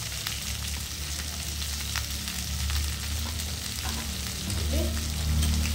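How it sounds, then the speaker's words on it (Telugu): Onions with salt frying in a pan make a steady, even sizzle with faint stirring, close and continuous, with no talk. "మన పక్కనైతే మంచిగా ఉల్లిపాయలు అవి వేగిపోతున్నాయి కదా"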